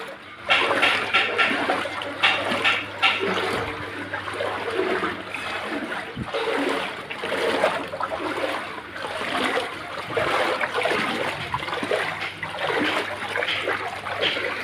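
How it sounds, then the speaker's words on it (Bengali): Knee-deep floodwater standing in a street after heavy rain, heard as a continuous close wash of sloshing and trickling water with occasional splashes and a low steady hum underneath. "দেখো কি অবস্থা, কত জল।"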